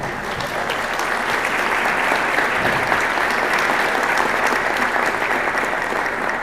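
Applause and clapping from the audience at an annual town meeting, a dense, even roar of many hands that holds steady throughout.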